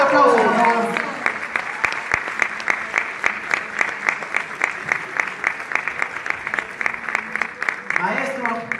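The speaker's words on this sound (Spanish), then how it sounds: "Un fuerte aplauso, por favor." Strong rhythmic clapping from an award-ceremony crowd in Mexico greeting maestro Gualberto Castro, the claps falling in a steady even beat, with a voice speaking briefly at the start and again at the end.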